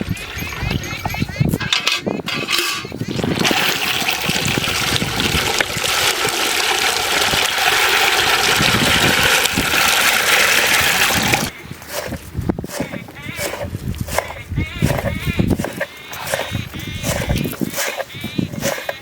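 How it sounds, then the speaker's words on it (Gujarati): Water is poured into a pot of pigeon peas for boiling during village outdoor cooking, a steady, fairly loud rushing pour of about nine seconds, followed by clattering handling sounds and brief bursts of activity. "આ પાણી નાખી"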